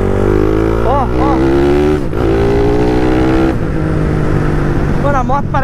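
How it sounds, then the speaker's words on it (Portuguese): Modified Honda Twister motorcycle with a 79 mm big-bore engine, running loud and close with steady rising and falling revs, someone talking over the engine throughout. "Mano, a moto parece injetada. A moto não falha, a moto não engasga nada."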